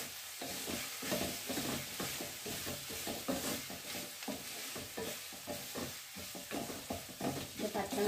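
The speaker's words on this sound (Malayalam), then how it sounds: "പച്ചമുളക് മാറുന്ന വരെ വഴറ്റണം കേട്ടോ" Green chillies are sautéed in a pan and stirred, producing a rhythmic run of scraping, clacking utensil strokes over a soft, low sizzle, fairly quiet throughout.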